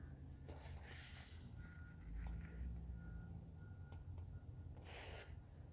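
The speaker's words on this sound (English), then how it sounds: "I heard some beeping noise like a truck backing up" Reversing beeps from a truck backing up outdoors, a few spaced electronic tones over steady low traffic rumble and outdoor background noise.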